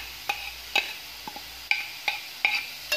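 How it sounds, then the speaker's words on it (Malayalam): A spoon scrapes and taps against a pan as chopped onion, garlic and curry leaves are mixed for a carrot toran, about nine crisp, close clicks at an uneven pace over a faint low sizzle. "നന്നായിട്ട് മിക്സ് ചെയ്ത് കൊടുക്കാം"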